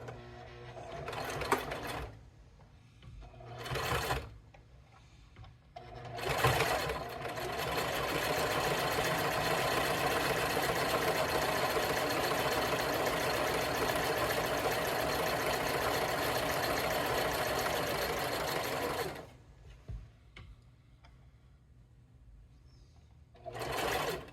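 A sewing machine runs a back stitch: a few short bursts of stitching, then a long steady whirring run of about twelve seconds that stops abruptly, followed by a couple more brief bursts.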